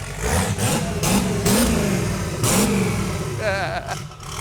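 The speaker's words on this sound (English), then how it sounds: "It doesn't go up when I rev it." A Datsun car engine revs up and down in bursts, loud and close, with people talking over it throughout; the engine has been overheated repeatedly and may lack boost.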